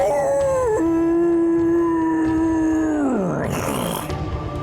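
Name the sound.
voice imitating a demon's screech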